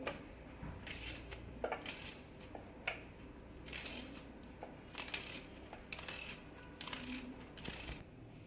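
A knife chops onions on a cutting board in a home kitchen, giving a series of crisp, close taps in an uneven rhythm, some quick and some spaced out, with no talking.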